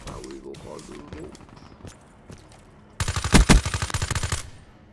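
Weevil gun firing in a video game, a loud burst of rapid automatic shots that sets in abruptly and runs for about a second and a half, after quieter game noise.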